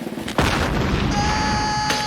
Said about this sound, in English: They blast the cannon.